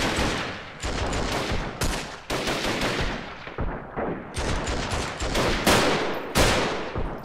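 Rapid bursts of gunfire in the video game Freeman: Guerrilla Warfare, loud and dense with repeated volleys and short gaps across the whole stretch, no voices over it.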